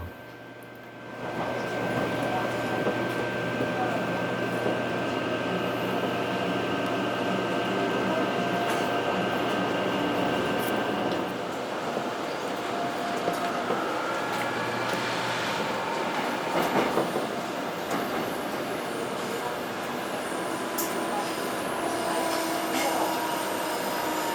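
Inside a Gyeongui-Jungang Line commuter train bound for Seoul Station, a steady loud rumble of wheels and motors runs throughout, with a thin high whine and occasional rattles and squeals.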